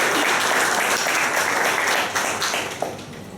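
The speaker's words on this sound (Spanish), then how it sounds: "pido un fuerte aplauso" A crowd claps loudly and steadily for a few seconds, the applause thinning slightly toward the end.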